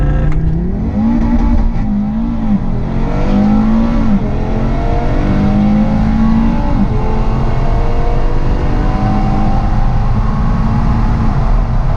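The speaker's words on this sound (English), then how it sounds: "I think we're spinning tire through most of that" Stage 2 Audi RS3 running E85 accelerating hard with traction control off and tires spinning, a loud, close, continuous engine roar climbing in pitch through repeated rising sweeps, no talking.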